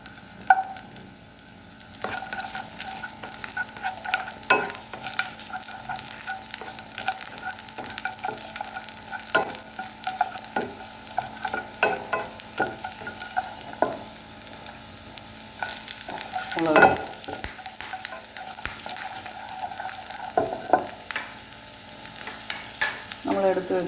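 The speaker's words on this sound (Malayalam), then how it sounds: "ഞാനിതിലേക്ക് വെളുത്തുള്ളി ഇടുന്നു രണ്ടോ മൂന്നോ വെളുത്തുള്ളി മതി" Two or three garlic cloves fry in oil in a pan for carrot soup, with a steady sizzle and repeated scraping and clinking of a spoon stirring throughout, close by and without talk.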